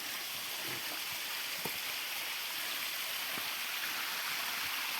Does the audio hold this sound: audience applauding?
no